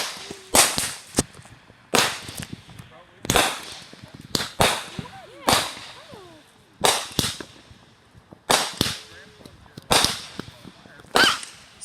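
Sharp, loud cracks and bangs from a fireworks show burst in a series of about a dozen separate pops spaced a second or so apart, some doubled, with faint voices between them.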